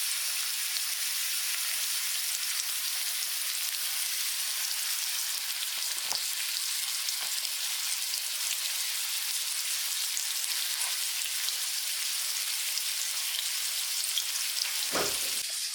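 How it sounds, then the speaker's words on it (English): Chicken sears in a hot pan, giving a continuous bright, hissing sizzle at moderate level, with a few soft clicks of handling and a brief thud near the end. "Listen to that sizzle though."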